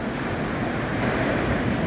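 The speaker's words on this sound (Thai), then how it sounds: "เช้านี้ทะเลขุนครับ" Rough, churning sea surf at Payoon Beach in Ban Chang, Rayong, on a morning with murky water, a steady broadband wash of breaking waves with wind buffeting the microphone and no talk.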